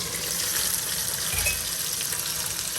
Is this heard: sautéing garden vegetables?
yes